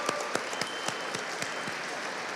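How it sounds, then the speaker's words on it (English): A crowd at a State House rally and awards ceremony claps in a steady, moderately loud round of applause, with sharp individual claps standing out over the continuous patter. "Let's give them another round of applause."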